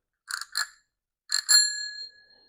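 A bicycle bell rings in two quick double strikes, the second pair louder with a bright metallic ding that lingers and fades; close and clear with no other sound.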